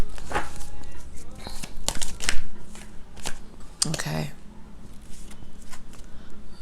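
Tarot cards shuffled in quick papery riffles and slaps, close and crisp, with a voice speaking over part of it.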